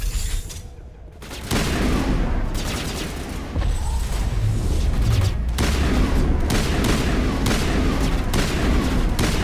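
Burst-fire rifle shots crack out in repeated short volleys in a 2007 space RPG, sharp and loud over a constant rumbling background, with no talk over them.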